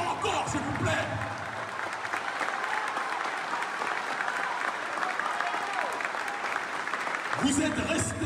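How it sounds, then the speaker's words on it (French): Large crowd at a political rally applauding continuously for several seconds, dense clapping with a voice speaking over it at the start and end. "je vous demande de vous applaudir avec la plus grande puissance"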